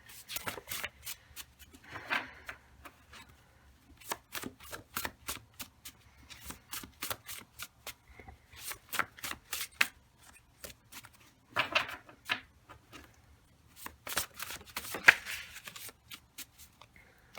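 Tarot cards being shuffled by hand for a pick-a-pile reading, repeated soft riffling bursts and quick slaps, close and quiet, in irregular clusters with short pauses between.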